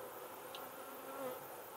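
A soft, steady buzzing of many honeybees during a package install into a hive box fills the air, faint and continuous, with no voices.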